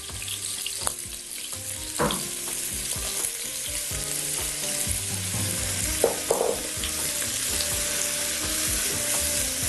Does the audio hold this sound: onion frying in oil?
yes